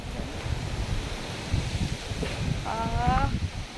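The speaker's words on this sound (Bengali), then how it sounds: "এখন খুব জোরে হাওয়া দিচ্ছে, বিশাল কালো হয়ে মেঘ লেগেছে আমাদের" Strong wind blowing outdoors under dark clouds before a storm, a rough, continuous buffeting rush across the microphone, with a brief tonal whine near the end.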